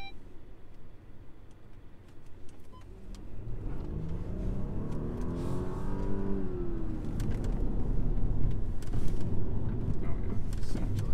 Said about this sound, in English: So now try a U-turn coming from the outer side.